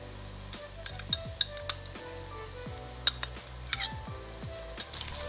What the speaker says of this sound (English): Once the onions have browned, drop in the ginger and garlic paste.